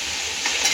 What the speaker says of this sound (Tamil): நல்லா அழகாக அந்த மாதிரி வதக்கி விட்டுக்கோங்க.